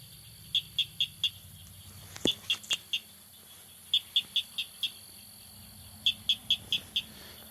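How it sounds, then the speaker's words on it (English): Frogs call in short bursts of three to five sharp, evenly spaced chirps, repeating across the clip over a quiet nighttime background in Montgomery, Alabama. "We've got some frogs calling out here"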